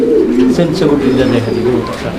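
A breeding pair of pigeons coos continuously in low, rolling tones, loud and close, with a busy background murmur.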